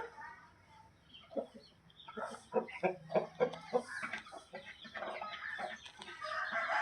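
A fighting rooster, a well-built bird that has lost a little weight after going two or three days without feed, gives a close series of rhythmic clucks that bunch together in the middle and then trail off into softer calls.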